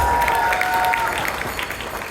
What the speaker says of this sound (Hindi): तो जोरदार तालियां आप लोगों के पास।